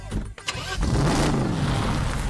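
An automatic car starts up and pulls away, a short burst of clatter giving way to a steady, rising engine hum close by.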